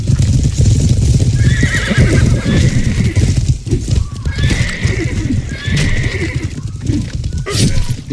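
A horse whinnies several times over dense, busy background noise and hoofbeats from the video game Life is Feudal, loud and close.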